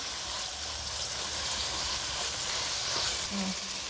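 Beef keema frying with yogurt in a karahi, a steady loud hiss and sizzle with no pauses, close up and continuous throughout.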